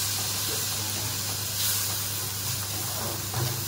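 Tomatoes cooking in a pan for a tofu and pork dish, a constant hissing sizzle with a low steady hum underneath and a few brief louder bursts, close with no talking.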